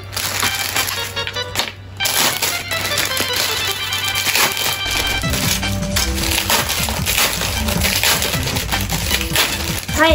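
Plastic packaging being torn open and unwrapped from Seria store items: continuous crinkling, rustling and crackling close by, with busy handling noises throughout.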